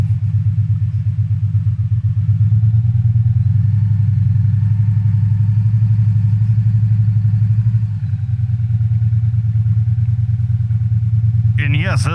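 A 2016 Victory Cross Country motorcycle, a heavy touring bike of about 845 pounds, rumbles steadily at very low cruising speed, its deep engine throb close and continuous with a slight change near the end.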